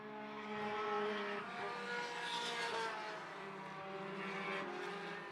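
Entry-level 4-cylinder Roadrunners division race cars circling a track, a continuous engine drone with shifting pitch rising and falling as cars pass at moderate distance, heard alone.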